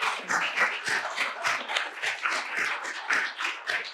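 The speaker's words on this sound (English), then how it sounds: "Let's give a round of applause." A small reception audience gives a round of applause, a loose, rhythmic patter of individual hand claps heard alone and fairly close.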